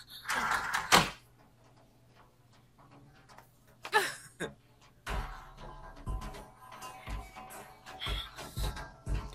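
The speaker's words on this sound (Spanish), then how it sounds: "Cierran la puerta." A door closes in an anime episode with a sharp thud, followed by a few softer knocks and bumps. A low steady hum runs underneath, and there is no talk.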